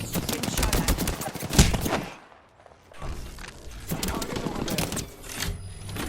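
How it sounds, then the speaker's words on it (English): Rapid gunfire in the Apex Legends video game, a dense rattle of loud shots and impacts that breaks off briefly partway through, then resumes with further bursts. "Getting shot at."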